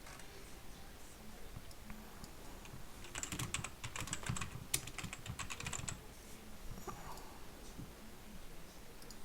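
Bursts of rapid clicking from a computer keyboard being typed on, a dense flurry in the middle then scattered keystrokes, fairly close over a faint background hiss.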